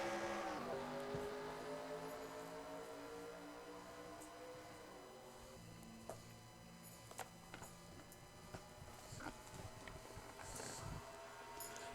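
Race cars roar away at a green flag start at Papyrus Motorsports Park in an Xfinity-series racing video game, a dense pack of revving engines with layered whines shifting pitch and occasional sharp blips, loud and steady throughout.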